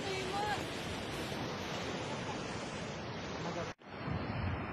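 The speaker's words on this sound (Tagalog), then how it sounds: "Maalon nga lang ang dagat guys. Maalon." Rough sea surf at Suso Beach in a rural province, a steady loud wash of breaking waves with wind noise buffeting the microphone, briefly cutting out near the end.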